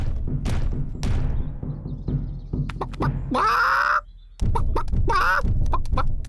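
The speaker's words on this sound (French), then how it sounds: "Les poules." Hens cluck and squawk repeatedly over a busy, low rumbling background, with a couple of louder, drawn-out calls and occasional thumps.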